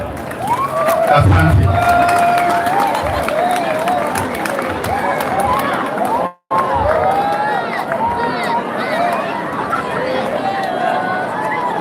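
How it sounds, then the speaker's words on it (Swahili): A large crowd at a gathering in Nyeri cheers and claps, a loud continuous roar of voices and applause with speech mixed in. "Haya, tuwapigie makofi."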